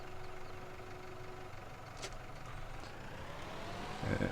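A tractor in a farming game reverses with a low idling engine rumble, brief clicks and a short burst of beeps near the end; fairly quiet, no talking.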